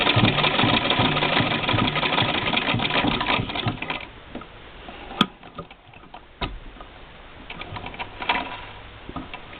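A Singer sewing machine stitches through two layers of cotton with a steady mechanical whir that thins out midway, followed by scattered clicks and ticks as the hand wheel stops.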